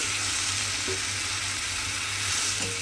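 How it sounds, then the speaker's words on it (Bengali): Fish sizzles steadily in a cooking pan as water is added and stirred in, a dense continuous frying hiss with faint occasional scraping. "জলটা দিয়ে এইভাবে একটু মিশিয়ে দেব মাছটাকে।"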